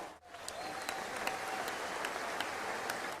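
A button-triggered applause sound effect plays during a live online show with a guest pianist, a steady wash of crowd clapping at moderate volume that runs without a break.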